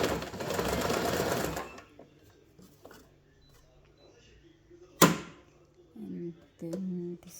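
A Janome RE1712 sewing machine runs in a loud, dense burst for about two seconds, then falls quiet apart from faint clicks and a sharp knock, followed by a voice speaking briefly.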